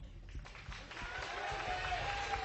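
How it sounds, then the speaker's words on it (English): Esports crowd at a StarCraft II GSL vs. the World match between Serral and TY, a broad continuous roar of cheering and clapping at moderate level with a faint commentator voice underneath. "Sounds like the crowd actually might be on TY's side here."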